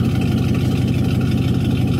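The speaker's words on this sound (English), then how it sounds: "gotta let the truck warm up." A truck engine idles through a cold start, a steady, loud low rumble with an even pulsing throb that holds without letup, running close by with no voices over it.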